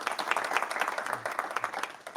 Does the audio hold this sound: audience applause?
yes